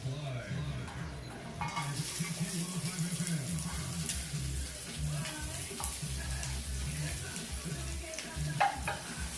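Onion fries in sesame oil in a pan, giving a steady low sizzle with occasional stirring clinks and a faint trickle of running water nearby, fairly quiet throughout.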